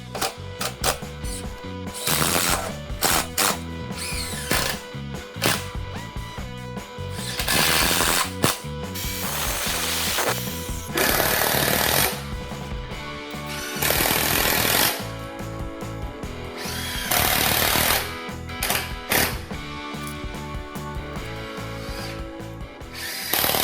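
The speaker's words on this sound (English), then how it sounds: "I just keep bringing the saw forward and just keep trimming it down until it's the right size" A power saw trims 2x4 lumber for a workbench, cutting in repeated loud whining bursts with short pauses and mechanical clatter between passes, close up.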